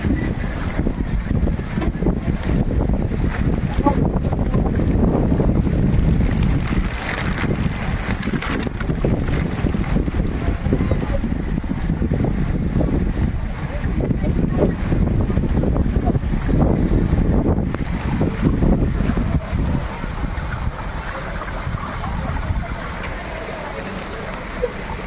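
During Cyclone Remal, strong wind buffets the microphone on a flooded street in a loud, continuous roar with gusty swells, and floodwater churns beneath it before easing slightly near the end.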